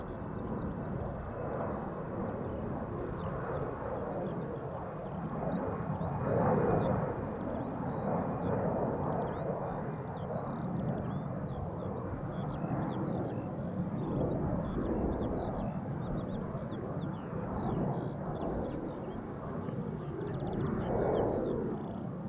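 An ITA Airways Airbus A320 airliner at Amsterdam Schiphol Airport gives off a continuous broad jet engine roar that swells and holds over a long stretch. Birds chirp faintly above the engine noise.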